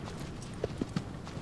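Horse hooves clip-clop in Shadow of the Colossus on PS4, a few soft, evenly spaced thuds under a constant dense wash of ambient game noise.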